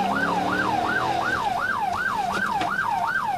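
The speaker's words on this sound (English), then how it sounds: "The deputy spots the car and activates his lights and sirens" A police car siren wails in a rapid, steady yelp cycle, loud and close, over a low rumble of vehicle noise, with a couple of brief clicks near the end.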